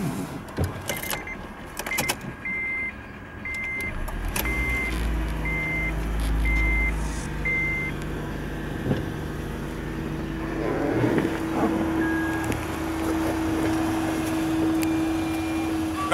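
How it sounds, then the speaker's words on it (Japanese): A 2009 Honda Insight 1.3 G hybrid with 97,100 km is started: a series of regular dashboard chime beeps, a low rumble as the engine starts, then a steady low engine hum with occasional clicks. "エンジンをかけてみます。"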